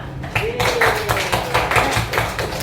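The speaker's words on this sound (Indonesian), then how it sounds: "Aplaus Luna" Applause from a primary school classroom during an Islamic religious education lesson, a short burst of clapping with bright rhythmic pulses over general room noise, fairly close.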